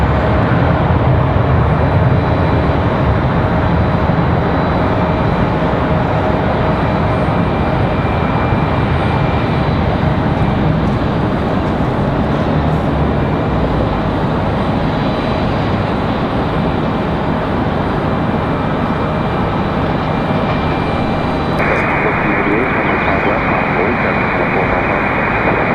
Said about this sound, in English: Copa off the runway, 757 on the move.